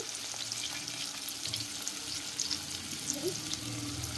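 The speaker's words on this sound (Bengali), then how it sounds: "একটু নাড়াচাড়া করে নেব" Spiced baby corn with onion and chilli powder is stirred in a pan, producing a steady low frying hiss with soft, irregular scrapes of the spoon, close and moderate in level, with no voices.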